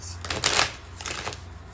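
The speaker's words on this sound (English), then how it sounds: "Let's clear the cards." Tarot cards shuffled by hand in two quick riffling bursts, crisp and close, with a short pause between them and no talking.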